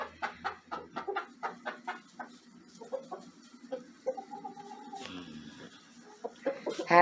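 Backyard hens clucking in a series of short, rhythmic clucks, close by, followed by a few squawks and a sharper call at the end, with no talking.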